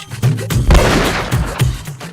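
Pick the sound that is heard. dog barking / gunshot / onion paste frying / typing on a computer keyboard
gunshot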